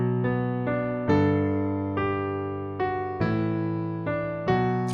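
Piano plays a passage with both hands together, a slow run of about eight clear, ringing chords and notes, each decaying before the next, heard close and with no speech.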